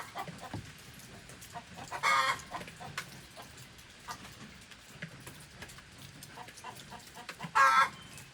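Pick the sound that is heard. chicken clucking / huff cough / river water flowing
chicken clucking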